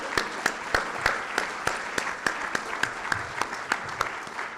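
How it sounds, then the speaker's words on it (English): A single pair of hands claps in a slow, even rhythm, about fifteen distinct claps at a steady pace and moderate distance, at a policy event honoring a judge. "how about a round of applause for the judge?"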